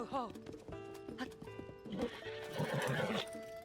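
A horse in Zelda: Tears of the Kingdom neighs with a rising whinny while hooves clip-clop, close and clear, with speech-like game sounds mixed in.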